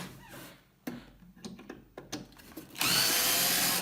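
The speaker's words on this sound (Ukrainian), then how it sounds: "О, відкрутити два шурупа." Cordless power tool driving out two screws on an Axioma 1.2 kW 12 V unit under repair, with short faint clicks and handling noises first, then a loud, steady whir of the spinning driver near the end.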